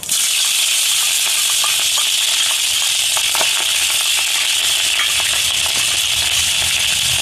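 Dried red chillies, whole cumin and green chilli fry in oil for a pointed gourd curry, a loud, steady sizzling hiss dotted with small crackles and pops, close up and without talk.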